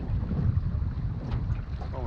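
Strong wind buffets the microphone on Wivenhoe Dam during a fishing trip, making a low, continuous rumble with gusty fluctuations and no clear voices.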